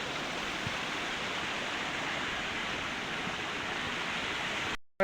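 Water flowing near Araku peak makes a steady, even rushing hiss with no voices, continuing unbroken until a brief cut at the very end.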